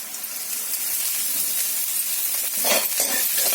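Chopped curry leaves fry with garlic in a pan for potato tawa fry, giving a loud, continuous close-up sizzle and hiss that swells briefly near the end as the leaves are stirred in.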